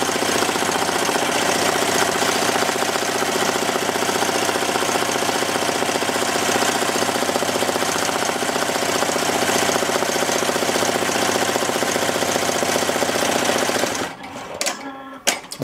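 Melco embroidery machine stitching continuously, a dense rapid mechanical chatter at steady loudness for most of the stretch, then stopping abruptly into a few scattered clicks and knocks near the end.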